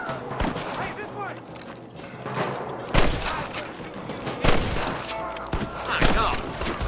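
Gunfire in the Western video game Red Dead Redemption, with several sharp shots cracking at intervals amid a busy battle mix, while voices shout over the action.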